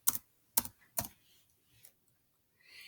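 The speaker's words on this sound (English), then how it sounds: "I'm going to type that in here." Three crisp keystrokes on a computer keyboard in quick succession while typing an equation, followed by faint softer taps and a light rustle, close and quiet with no voices.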